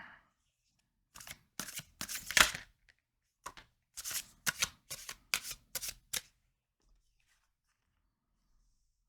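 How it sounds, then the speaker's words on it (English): Tarot cards are shuffled in several quick bursts of crisp riffling, close and fairly quiet, with short pauses between bursts. "I feel like I need to shuffle again."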